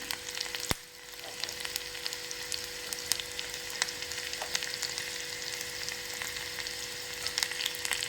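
Green chilies fry in hot oil in a home kitchen pan, giving a steady, fairly soft sizzle with light crackles and one sharp clink near the start, and no voices.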